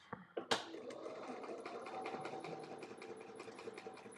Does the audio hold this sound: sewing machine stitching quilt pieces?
yes